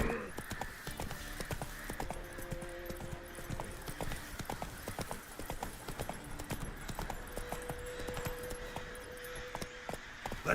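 Roach, the horse from the video game Witcher 3, gallops with a steady stream of rapid hoofbeats that continues throughout, layered over in-game ambience and soft sustained musical tones.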